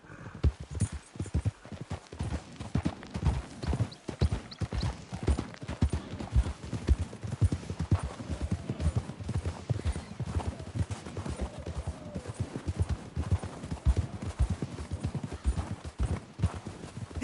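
Hooves clip-clop in a brisk, steady rhythm throughout, like horses trotting, with a faint whinny and low background rumble, from the video game Red Dead Redemption 2.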